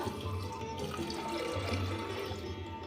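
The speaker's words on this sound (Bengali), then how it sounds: "আর দিচ্ছি জল" Water pours steadily into a pressure cooker holding lentils, salt and a little oil, a close continuous splashing rush.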